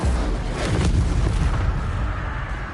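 Incendio fire spell cast in Hogwarts Legacy, a loud, close, rumbling whoosh with a booming burst at the start that fades into a roaring hiss over about three seconds.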